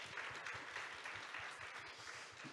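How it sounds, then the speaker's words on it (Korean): Audience at a performing-arts data forum in Korea claps warmly for a guest being introduced, a steady, fairly faint wash of applause heard from a distance, continuous throughout with no voices. "박수 부탁드립니다."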